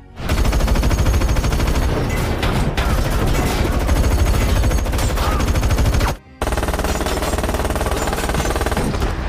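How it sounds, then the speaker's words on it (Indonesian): Film gunfire rings out as shooters fire at robbers: long, loud bursts of rapid automatic fire, dense and continuous, with a brief gap before the firing resumes. "Ia menembaki para perampok tersebut dengan penuh amarah."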